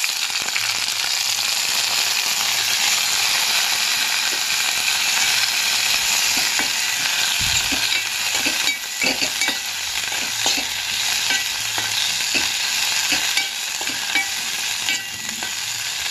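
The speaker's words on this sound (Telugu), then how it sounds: "నెయ్యి వేసుకున్నాక ఈ పండు మిర్చిని నేతిలో వేయించుకోవాలి." Ripe red chillies fry in ghee for a tomato peanut chutney, giving a steady, loud sizzle with scattered crackles and a few stirring clicks throughout, no voices.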